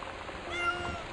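A human voice imitates a cat's meow, a short drawn-out mew repeated in a steady stream of mock cat calls, close and moderately loud over a faint background hiss.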